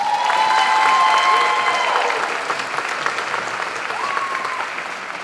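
Applause from an audience at an evening awards ceremony for school employees, a dense, sustained burst of clapping that peaks early and gradually tapers, with faint tonal sounds and murmurs in the background.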